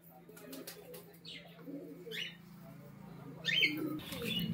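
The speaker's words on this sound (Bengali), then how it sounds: "এটা একটা মুর্শিদাবাদী দেশি গিরিবাজ লালশিরা নর পায়রা" A red-headed male Murshidabadi desi Giribaz pigeon gives faint, low cooing, with a few bird chirps over a steady low hum in a quiet setting.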